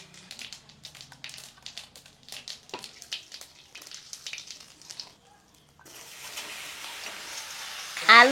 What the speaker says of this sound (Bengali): এবার তেল দেব, জিরা ফোড়ন দিয়ে কুশি রান্না করা হবে।